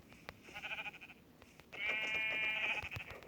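Sheep bleating twice in Minecraft, a short wavering bleat followed by a longer, louder one, over a soft background hum.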